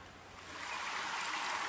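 A forest stream flows beside a wooded hiking trail on the way to a waterfall, a steady broadband rush of water that swells slightly louder after the first half second and continues alone without speech.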